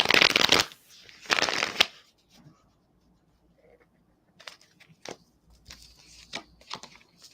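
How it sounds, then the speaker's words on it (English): A deck of tarot cards is shuffled close up in two quick riffling bursts, followed by softer taps and flicks as the cards are handled and laid out. "I'm going to pull some cards for you"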